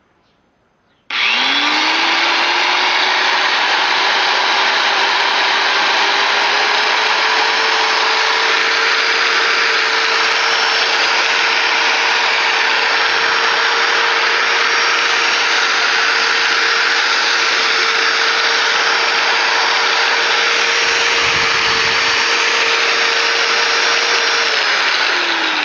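A 4-1/2 inch heavy duty angle grinder spins up from silence and runs steadily at full speed, a loud continuous whine with a constant motor tone held for about twenty-five seconds, no voices.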